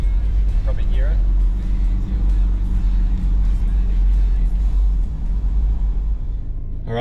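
A 4x4 idles along steadily in low, rumbling drive on a concrete stretch of the Bloomfield Track in tropical North Queensland, with a constant near engine drone and a brief voice near the start and end.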